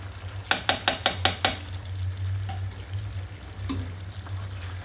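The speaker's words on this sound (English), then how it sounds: "Now mix it very gently." A spoon stirring a dahi potato and capsicum curry with ghee gently in a pan, a quick run of six light metallic clinks followed by soft scraping and a few faint taps over a low steady hum.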